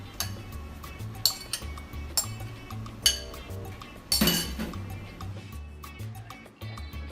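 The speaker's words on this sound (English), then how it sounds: "then we're going to stir in the avocado" Spoon clinks against a pot as avocado is stirred into a vegetarian tortilla soup with baby spinach, with several sharp metallic taps and a louder clatter near the middle over a low background hum.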